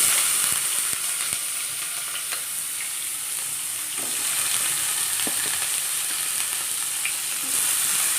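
Onions and curry leaves sizzle steadily in a hot pan while drumstick curry is being cooked, a continuous bright frying hiss with occasional stirring clicks and no talking.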